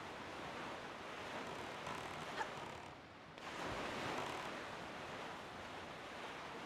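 Steady rushing ocean surf and wind wash continuously around a boat slowly sailing the open sea in Zelda: Wind Waker, with a brief dip in the noise midway before the broad swell returns.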